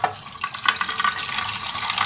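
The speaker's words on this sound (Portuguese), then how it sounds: "Vou colocar aqui a água." Water from a tap runs and splashes into a pot for coffee in a small kitchenette, a steady close rushing stream with bright spattering that continues throughout, with no talking.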